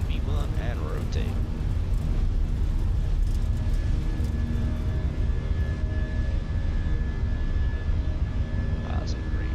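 A steady, loud engine roar fills an A320 airliner's takeoff roll in a flight simulator game, continuous throughout with a few brief tonal chimes layered on top.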